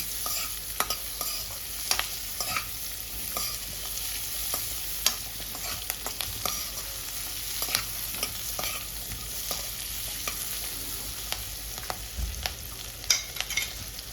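Capsicum and green chillies frying in a pan for an egg malai masala gravy, a steady close sizzle broken by repeated scraping and clinking stirs of a spoon against the pan, with no talking.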